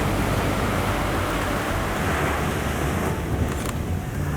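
Ocean surf washing onto a beach, a steady broadband roar with wind buffeting the microphone, continuous and fairly loud throughout.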